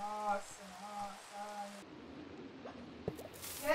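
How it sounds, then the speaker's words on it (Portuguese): Steady rain hiss falls in a video game world, after a short musical tone at the start, with a few drips and plops and a sharper splash near the end. "A gente vai se molhar lá, ué, com essa chuva aqui."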